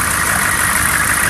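A 1996 Chevrolet Cheyenne K3500 with a 6.5L diesel engine runs steadily after a cold start, a loud, constant, close-up clatter and drone with no talking.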